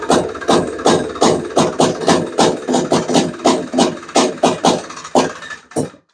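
A Honda Odyssey FL350 fitted with a Lectron carburetor, slightly flooded and with the choke off, chugs in rapid rhythmic loud pulses for several seconds before cutting out abruptly.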